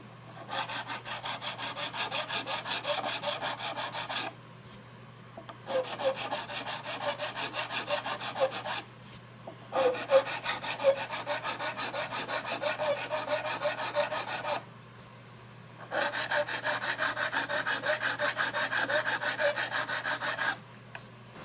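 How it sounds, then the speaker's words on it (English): A crowning file is drawn back and forth across guitar frets, making steady rasping strokes in long continuous bursts separated by short pauses, close and fairly loud. "now that we're all nice and crowned with our crowning file"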